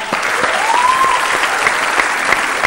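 An audience claps steadily at a live poetry-style recitation, a dense run of handclaps that carries on evenly throughout without pause.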